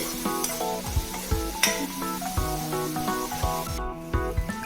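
Ground masala paste for a fish curry sautés in oil with a soft sizzle, while repeated low knocks and scrapes from stirring come through, along with some tonal hum in the background.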